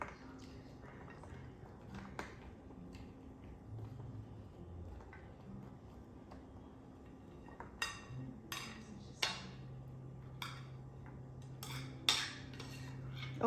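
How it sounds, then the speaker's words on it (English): Nuts are tipped into a baking pan in a home kitchen, giving scattered light clinks and rattles, with a few sharper taps toward the end against a quiet background. "now I'm gonna put these gorgeous nuts in the pan here"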